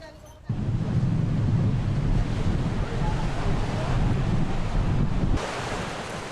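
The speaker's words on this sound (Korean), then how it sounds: "날씨는 화창한데 정작 파도가 심상치 않네요." Rough sea waves roar along the Jeju coast on a sunny day, a dense, continuous wash of surf with heavy wind buffeting the microphone, loud and close, cutting in and dropping away abruptly.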